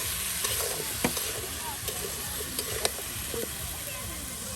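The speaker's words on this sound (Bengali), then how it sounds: "এই যে দেখুন এখন কিন্তু সেই আলু কুচি আর ধনিয়া পাতা দিয়ে দেওয়া হলো, আর এটা এখন এই যে আপনার ভেজে নেওয়া হচ্ছে।" Chopped potato and coriander leaves fry in a pan with a dense, steady sizzle, broken by a few sharp scrapes of stirring, in a busy outdoor riverside cooking setting where voices murmur faintly.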